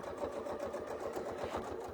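A sewing machine stitches an apple core template quilt design, running steadily at a fast, even rhythm close by with no voices.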